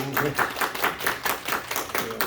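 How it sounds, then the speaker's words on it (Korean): A church audience applauds after an announcement, a brief patter of handclaps in a loose, regular rhythm, close and moderately loud with no talk over it. "박수 한번 하시죠"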